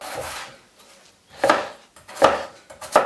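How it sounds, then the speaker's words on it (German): Three sharp knife chops land on a cutting board as potatoes are diced, spaced about a second apart, close and crisp in a quiet room. "Jetzt noch die Kartoffeln würfeln"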